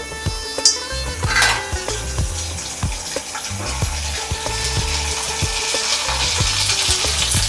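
Fuchka puris fry in hot oil at home, a steady close sizzle running throughout with scattered clinks and scrapes of utensils against the pan; no one talks.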